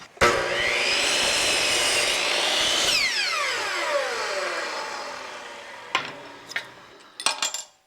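A power drill with a modified 3/4 inch wood bit boring through Starboard plastic sheet on a 1967 StarCraft boat: a loud, steady whine for about six seconds that drops in pitch as it slows, then a few short knocks and clatters.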